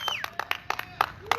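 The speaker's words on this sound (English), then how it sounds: "let's have a round of applause" Applause for a drag race winner, scattered distinct claps with shouting voices mixed in.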